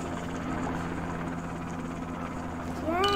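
In the Roblox game Sharkbite 2, a helicopter's steady droning rotor hum runs throughout at moderate level, with a rising whine near the end.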